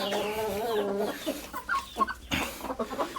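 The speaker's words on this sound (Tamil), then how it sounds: "இதுக்குள்ளே 5 கோழிகள் இருக்குது, முட்டையும் இருக்குது." Several hens clucking inside a small farm coop holding five birds, steady overlapping clucks and low calls close by, with no talk.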